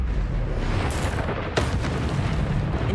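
The Expelliarmus spell being cast in a Harry Potter game, heard as a loud, booming blast with a sharp burst partway through, over a continuous heavy rumble.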